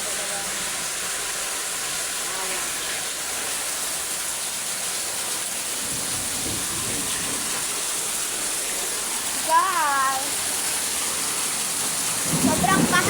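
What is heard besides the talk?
heavy rain in a storm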